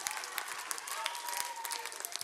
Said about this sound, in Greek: Τώρα ήταν το χειροκρότημα